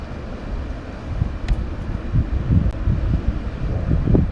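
Wind buffets the microphone outdoors at a site where a concrete slab is being poured for a metal shed, giving low, rumbling gusts that swell and fall irregularly and grow stronger toward the end.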